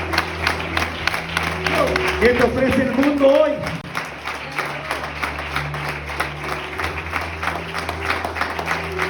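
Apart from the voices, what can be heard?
church congregation applause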